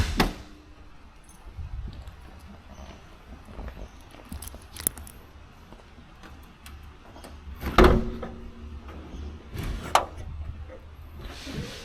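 Keys jangle with scattered clinks and knocks while a 1978 Lincoln Continental Convertible's trunk is opened. Louder thumps come near the middle and toward the end, and there is no talk.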